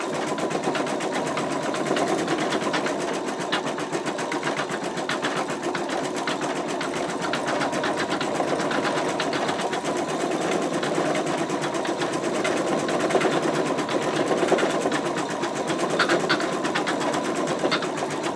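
An embroidery machine stitches out an in-the-hoop wallet in a steady, continuous mechanical whir with a rapid needle chatter, close and even throughout with no talk.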